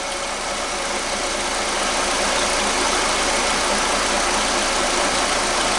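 A car engine runs steadily after being started on a small battery, a loud, constant broadband idle with no voices.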